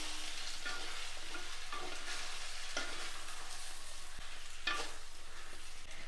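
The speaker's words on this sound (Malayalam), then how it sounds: "ഇനി ഇതിലേക്ക് കുറച്ച് ഉപ്പ് നമുക്ക് ആഡ് ചെയ്ത് കൊടുക്കാം. എല്ലാം കൂടി ഒന്ന് ഇളക്കി കൊടുക്കണം." A spoon stirs a banana and drumstick curry with salt in a pan, scraping in slow, irregular strokes over a constant soft sizzle, close and fairly quiet.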